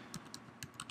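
Several quick keystrokes on a computer keyboard during a Mac OS X 10.10 Yosemite installation, entering an admin name and password; crisp, close taps in an irregular rhythm with no talking.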